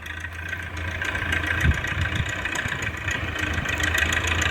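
A YuMZ tractor engine labours steadily while pulling a PLN-3-35 plough through heavy clods on a slope, a continuous low droning rumble with a brief louder thump partway through, no voices.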